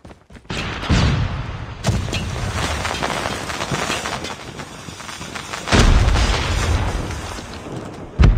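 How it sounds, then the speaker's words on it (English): A flashbang grenade going off in the Call of Duty Mobile video game, sharp loud blasts with a ringing high-pitched tone after, among ongoing gunfire and booms in a multiplayer match. "Flashbang!"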